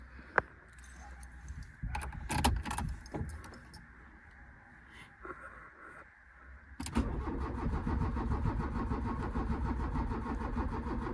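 Old VW engine cold-starting on manual choke after months unused: keys jangle and the starter cranks in bursts before the motor catches around seven seconds in and settles into a loud, steady run.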